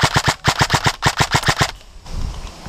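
SSR-15 prototype gun firing in semi-auto, a loud rapid string of about fourteen sharp close shots in quick rhythm, then a fading tail.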